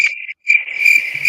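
Crickets chirp in a steady high trill that stops briefly and then resumes, loud and close, with no one talking over it.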